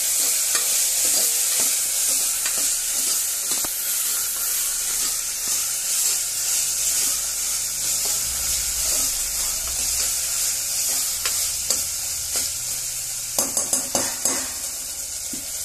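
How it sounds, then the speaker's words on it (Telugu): Onions, ginger-garlic paste, cumin and mustard seeds fry for beerakaya pappu, a loud continuous hissing sizzle with repeated spoon scrapes and a few sharp pops toward the end, and no speech. "ఒక స్పూను అల్లం వెల్లిపాయ, ఆనియన్స్ మంచిగా గోల్డెన్ కలర్ రావాలి, మంచిగా ఫ్రై కావాలి"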